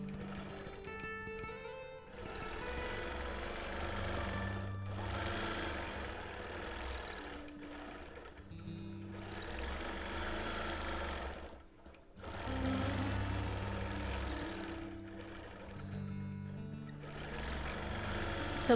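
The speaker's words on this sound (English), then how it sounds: "I'm stitching on a Bernina Q24" Bernina Q24 longarm sewing machine doing free-motion quilting, running in steady bursts with brief pauses between stretches of stitching, close and fairly loud with no voices.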